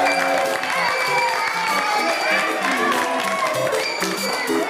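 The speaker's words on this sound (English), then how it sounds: "let's give a round of applause for Mr." Audience applause at a church vacation Bible school evening assembly, steady and sustained, blended with music playing throughout the whole stretch.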